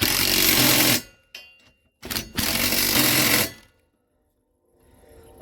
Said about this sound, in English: get my trusty 18 volt Ryobi out here. We'll tighten these up.